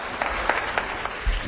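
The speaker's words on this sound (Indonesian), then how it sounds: "berikan tepuk tangan yang meriah buat Tuhan" A church congregation claps during an Indonesian-language service led by a pastor, a brief wash of applause with a few sharper claps and a low thump near the end.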